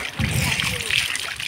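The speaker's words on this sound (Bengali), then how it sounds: "নিশান সাঁতার মারছ তুই" A child swims and splashes in water, with brief close splashes and sloshing mixed with voices talking over them.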